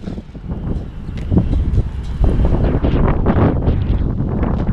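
Gusty wind buffets the microphone in rough, rushing bursts that build louder partway through, with no voices.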